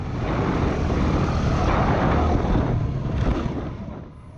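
A Yamaha WR250R motorcycle approaching a dirt jump gives a steady, loud engine roar mixed with rushing wind noise that eases off toward the end, with no talking.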